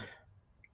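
A single short, faint throat-clearing cough bursts at the start, then fades into quiet room noise.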